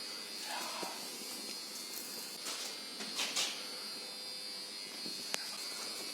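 Lift machinery in the original motor room of a Mile End tower block gives off a steady, fairly faint electrical hum throughout, with a sharp click near the end.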